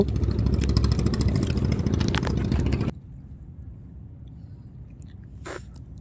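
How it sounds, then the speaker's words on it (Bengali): A motor boat engine passing by makes a loud, steady mechanical drone that cuts off sharply after about three seconds, leaving a quiet background with a faint brief sound near the end. "নৌকা গেল"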